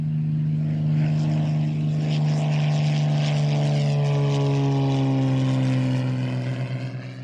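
A Cessna propeller airplane cruising in flight gives a loud, steady engine drone with a strong, even hum that holds throughout and shifts slightly in pitch near the end, with no talking.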